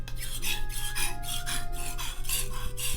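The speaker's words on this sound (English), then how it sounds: "I'm repeating that entire process that we just went through on this more fine, high grit stone on the 3000 grit side" A kitchen knife is drawn across the 3000 grit side of a whetstone in steady, repeated strokes, a close, continuous scraping rasp that rises and falls with each pass, with no talking.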